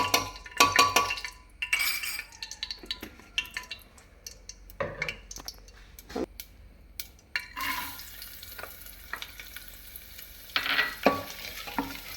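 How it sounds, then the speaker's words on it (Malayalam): Soft frying sizzle of coconut and onion in a pan with frequent scraping and stirring clinks from a utensil, irregular and close, no voices. "തേങ്ങയും ഉള്ളിയും കൂടെ നമുക്കൊന്ന് വറുത്തെടുക്കാം"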